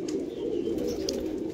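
Flying pigeons in a home loft coo in a steady, low, overlapping murmur, close and continuous, with a couple of faint higher chirps.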